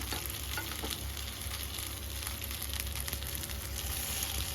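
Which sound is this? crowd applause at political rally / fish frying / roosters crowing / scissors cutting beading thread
fish frying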